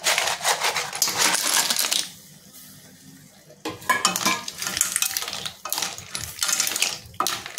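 Clams are tipped into a hot pan, clattering and rattling against the metal in bursts amid sizzling and stirring, with a brief quieter lull in the middle.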